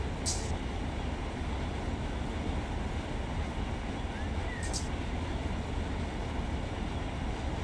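A train in the Run 8 railroad simulator rolls past an intermodal yard, giving off a steady low rumble with a faint high squeal from time to time and a couple of brief bright clicks.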